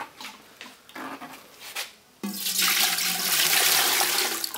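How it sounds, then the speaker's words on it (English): Water runs from a tap into a pot forming the bottom of a makeshift double boiler for rendering beeswax, with a few quieter splashes first and then a loud, steady gushing pour that lasts several seconds. "we're just going to put our bottom boiler down here and put a little water in it"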